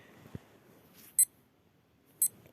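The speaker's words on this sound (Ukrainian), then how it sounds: "я натиснула, щоб перестало пікати" A household electronic device gives two short high beeps about a second apart, fairly clear against a quiet room with a faint soft thump before them.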